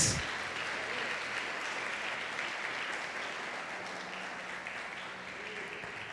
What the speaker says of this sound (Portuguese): Vamos aplaudir o Senhor com isso.